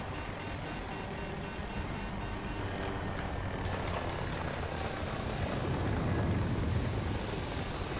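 A helicopter in the Battlefield 2042 video game whirs with a steady rotor and engine drone that swells slightly louder toward the end, with no voices.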